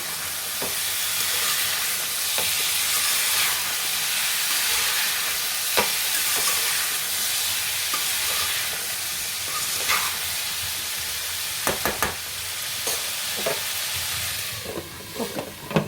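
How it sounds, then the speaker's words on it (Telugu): A potato and tomato curry is stirred in a pan over a steady, close sizzle, with a spoon scraping and clicking against the pan at irregular moments and a few sharper knocks near the end. "మంచిగా అయితే కలుపుతున్నాం"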